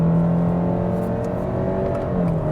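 A 2025 Subaru Legacy Premium accelerating from a standstill, its engine droning steadily from inside the cabin with a rising tone, no talking.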